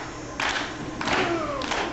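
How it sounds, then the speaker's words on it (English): Wrestling crowd in Kalamazoo clapping during a pro wrestling show, a few loud bursts of applause swelling over steady arena noise. "Here they are with the claps."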